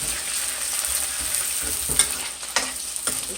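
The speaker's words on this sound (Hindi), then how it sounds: "अभी हम इसको प्याज को लाल होने देंगे" Onions and garam masala sizzle and fry steadily in a pan for egg curry, with occasional stirring scrapes breaking through the continuous crackle.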